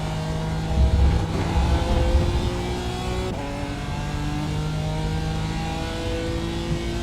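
A race car engine in iRacing, in a Falken Tyre Challenge race, hums loudly and steadily at high revs, pitch shifting slightly with a gear change midway, alone without voices.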